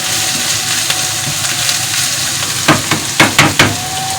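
Spices dropped into a hot frying pan while cooking zucchini with béchamel, with a steady loud sizzle throughout and several sharper bursts of crackling as they hit the oil near the end.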